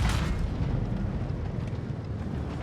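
Deep, rumbling cannon blast from a tank shot in World of Tanks Blitz striking an enemy tank, a loud boom at the start trailing into sustained low roar.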